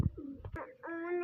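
Punjabi pigeons coo close by in short, soft, throaty calls, with a brief flutter of movement in between, faint and with no talking.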